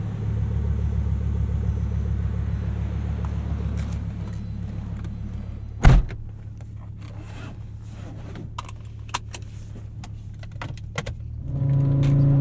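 A 1996 Volvo 850 R, a low steady engine rumble from inside the cabin, with a sharp knock near the middle, small clicks and rattles, and the engine note rising again at the end.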